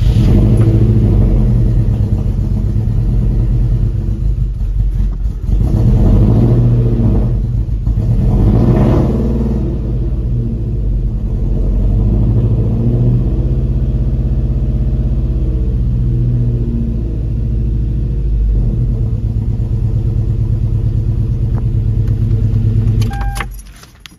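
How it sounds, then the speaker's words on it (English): Rebuilt 3RZ four-cylinder engine in a 1997 Toyota Tacoma idling rough after installation, a loud close continuous rumble through the exhaust with uneven surges and some metallic jangling. "I think that's just the exhaust."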